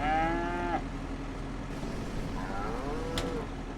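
Farming Simulator 25 cows on pasture, two drawn-out moos, the first loud and close and the second softer, over a quiet steady background hum.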